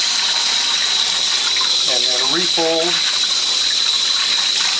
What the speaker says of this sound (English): One of the last steps, of course, is to scrub off any pulp with cold water